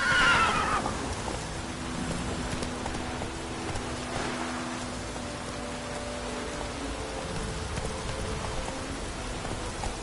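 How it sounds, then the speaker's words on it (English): A horse in The Witcher 3 gives a loud whinny at the start, then the rest is quiet ambient game sound with a soft rain-like hiss and faint hoof clopping. "That's it, Roach. Whoa there, Roach"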